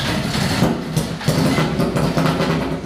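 A classic 1980s Honda motorcycle engine croaks as it tries to start, a low, rough churning that stutters and surges unevenly for a few seconds, loud and close.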